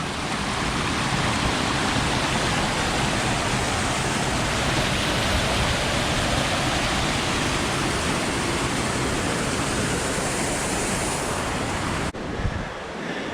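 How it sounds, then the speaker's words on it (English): Pine Creek's water rushes continuously in a broad, steady hiss, loud and close, with wind buffeting the microphone and a brief handling bump near the end. "So this is a creek"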